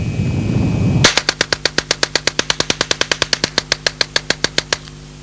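A 1977 Alan Halla experimental low-recoil submachine gun, serial AH3377, fires old ammunition in one long rapid burst of about thirty sharp, evenly spaced shots, loud and close, after a steady background rumble.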